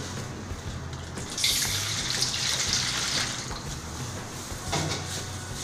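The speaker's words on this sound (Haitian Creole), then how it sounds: "Quand vous mettez de l'eau, vous videz de l'eau." Water runs in a steady, continuous stream as it is poured into focaccia dough, close by and with no voices.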